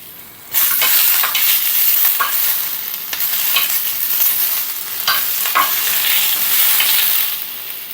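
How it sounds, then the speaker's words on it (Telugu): Onion fries loudly in a hot pan with a dense, continuous sizzle, close up, while a utensil stirs it in repeated scraping strokes. "దాంట్లో ఆనియన్ ఇలా వేగుతుంది చూడండి"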